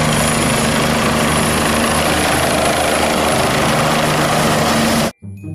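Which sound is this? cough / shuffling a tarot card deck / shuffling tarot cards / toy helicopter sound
toy helicopter sound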